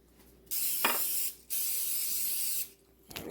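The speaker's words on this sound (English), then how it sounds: "spray on your spoon" Cooking spray hissing onto a spatula in two sustained bursts of about a second each, close and clear, with brief clicks of the nozzle between and after them in a quiet kitchen.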